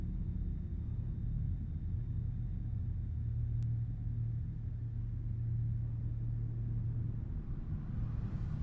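Vehicles rumble along an icy road where a pickup and a Subaru crash, a steady low engine and road drone filling the whole stretch at a distance, with no distinct impact standing out and no voices.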